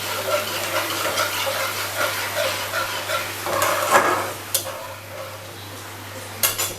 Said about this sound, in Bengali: এবারে আমি মশলাটাকে কষতে দেব।